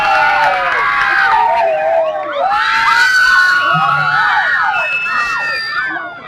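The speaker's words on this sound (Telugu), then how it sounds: "పాల్గొన్న ప్రతి ఒక్క విద్యార్థికి ఒకసారి గట్టిగా చప్పట్లు కొట్టి" A crowd of students at a tricolour flag rally cheering and shouting together, many young voices overlapping in a loud, continuous roar.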